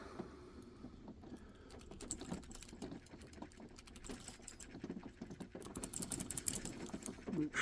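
Euro cylinder lock being opened with only tension tools, no rake, giving faint, close, irregular tiny clicks and scratchy metal-on-metal jiggling that patter on quietly without speech.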